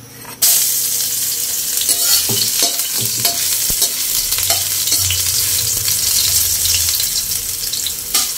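Ginger sautéing in a pan for ginataang suso, a loud steady sizzle that starts abruptly and carries on throughout, with occasional stirring scrapes and clinks, no talking.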